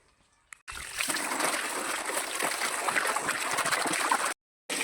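Water gushes from a motor pump and splashes steadily over radishes being washed outdoors, a loud continuous rushing spray that cuts off abruptly near the end.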